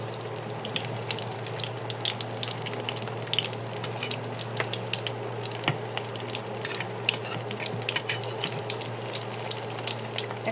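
A snack fries in hot oil in a home kitchen, a steady low crackling sizzle with scattered pops and small bursts throughout, fairly close and unaccompanied by talk.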